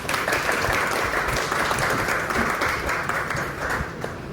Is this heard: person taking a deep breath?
no